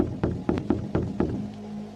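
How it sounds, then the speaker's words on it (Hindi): Someone knocks on a door, sounded as a quick series of about six evenly spaced hollow knocks, close and fairly loud, over a low background hum. "जाकर दरवाजा खटखटाया"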